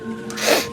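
A single short sneeze, close and fairly loud, with a sharp burst of breath.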